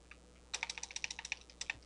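Quick, light keystrokes on a computer keyboard, a short burst of about a dozen close, crisp taps in an uneven rhythm during map editing.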